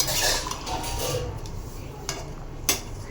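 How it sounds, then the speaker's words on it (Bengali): A spoon clinks and scrapes in a pot as chicken curry is stirred after water is added, with a few sharp metallic knocks over a low simmering background. "জল দিয়ে নেড়ে দেবো"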